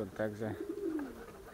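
Pigeons coo softly in the background, a low rolling call that overlaps with someone speaking close by.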